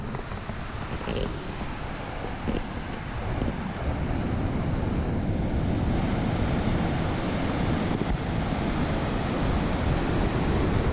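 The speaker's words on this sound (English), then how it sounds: "heavy wave in the ocean itself right now, as you can see behind me" Heavy ocean waves surge onto a sandy beach at Lingayen Baywalk in Pangasinan, a broad, continuous roar of surf that swells louder midway and stays steady, with gusting wind buffeting the microphone.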